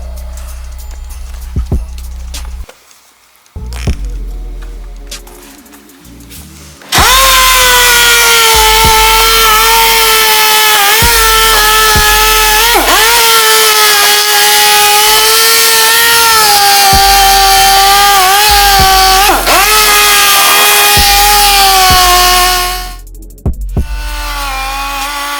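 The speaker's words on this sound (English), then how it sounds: "we're going to switch to our 800 grit DA hook and loop and basically smooth out all the lines we left with the 400" A dual-action sander with an 800-grit hook-and-loop pad works an aluminum wheel. Light handling noises come first, then a loud, steady motor whine runs for about sixteen seconds before winding down.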